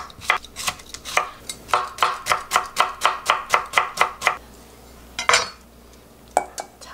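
A knife chops Korean cucumber on a board in a quick, even run of about a dozen crisp strikes, then pauses before a few more scattered cuts, close and clear with no voices.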